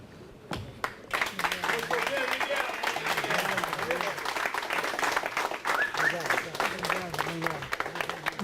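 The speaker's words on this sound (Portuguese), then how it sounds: "Eu agradeço a vocês todos pelo aplauso, pelo reconhecimento" Audience applause at a Brazilian sports award ceremony, a steady wash of clapping that runs for several seconds beneath someone speaking.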